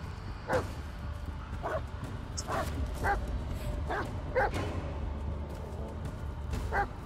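Dog barking in the Blair Witch video game, about eight sharp barks spaced irregularly over a low rumbling ambient background.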